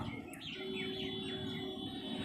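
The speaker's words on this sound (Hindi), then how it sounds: "यहाँ सारे सब जो है कोयल के बच्चे हैं" Koel chicks call with several thin rising chirps in the first half, fairly faint over a steady background hum and hiss, no speech.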